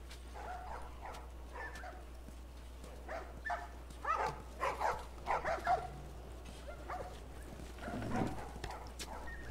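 A dog barks in a video game, with a cluster of close, fairly loud barks in the middle and softer yips and whimpers around them over a constant low hum.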